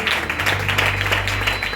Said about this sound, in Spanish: Fuerte el aplauso a la palabra del Señor